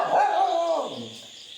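A dog lets out a single drawn-out, whining bark that trails off into a softer yelp, close and fairly loud, heard alone.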